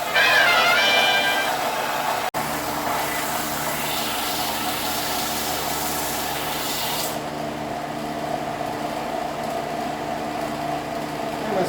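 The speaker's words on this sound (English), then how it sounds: "To the belt sander." A belt sander grinds casting nubs off steel ladder bar brackets: a loud, steady abrasive roar over a low motor hum, which loses its bright hiss about two-thirds of the way through, with no talking.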